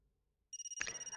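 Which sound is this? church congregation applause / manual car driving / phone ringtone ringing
phone ringtone ringing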